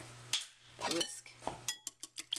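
Quick, close clinking of a whisk against a mixing bowl, a few sharp taps and scrapes in uneven bursts while cheesecake filling ingredients are combined.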